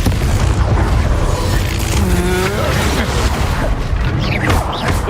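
A loud, booming Confringo spell blast in Hogwarts Legacy erupts during a magic duel, a dense roar with rumbling low end and crackling debris that carries through the whole stretch.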